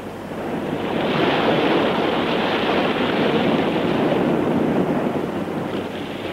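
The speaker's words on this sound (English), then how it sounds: "Ships rock in the harbor, lashed by wind and waves." Hurricane wind and crashing waves in a harbor where ships rock, a loud, dense, continuous roar of surf and gusts swelling in and holding steady, no voices.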